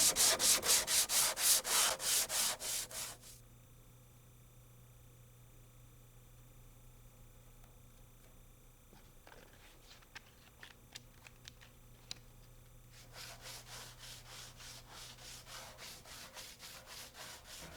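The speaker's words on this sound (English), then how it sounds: "Use sandpaper wrapped around a block of wood for even sanding." Steady rhythmic scraping of sandpaper wrapped around a wooden block sanding wood, back-and-forth strokes at the start and end, with a quieter stretch and a few light ticks in between.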